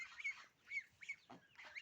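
Soft, high peeping calls of young geese, several short chirps in quick succession, fairly quiet and close.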